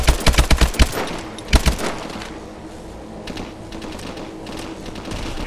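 Turret machine gun in Call of Duty Advanced Warfare fires several loud, rapid bursts of rattling shots up front, then a second volley, before fading into a rumbling battlefield background.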